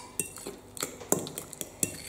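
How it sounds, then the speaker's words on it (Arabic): Cake batter for a banana and chocolate cake being mixed in a bowl, heard as a series of light, irregular clinks and taps of a utensil against the bowl, close and fairly quiet, with no voices. "بنخلطوا هكا المكونات نتاعنا الكل."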